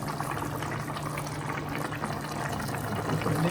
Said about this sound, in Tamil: கொதிக்க ஆரம்பிச்சிச்சு